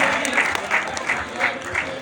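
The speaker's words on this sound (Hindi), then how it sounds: "अल्ताफ हुसैन साहब के लिए भरपूर तालियां" Audience applause for film director Altaf Hussain at a Platinum Jubilee event for 75 years of Pakistani film, a steady moderate roar of clapping with faint voices mixed in.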